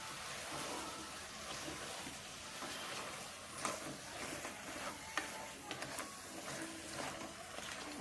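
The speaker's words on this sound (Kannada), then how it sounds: "ಚೆನ್ನಾಗಿ ಫ್ರೈ ಆಗ್ತಾಯಿದೆ." Mushroom biryani masala fries in a pan with a steady, dense sizzle and a few light stirring clicks and scrapes.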